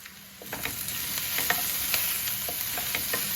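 Sweet corn with turmeric fries in a pan, a steady close sizzle with soft scrapes of stirring throughout and no voices.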